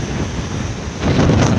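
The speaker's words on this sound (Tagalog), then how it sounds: "Ang alon" Sea waves churned up by Typhoon Uwan roll and wash along the shore at Ozamiz, a steady broadband roar mixed with wind buffeting the microphone, swelling louder in the last half second.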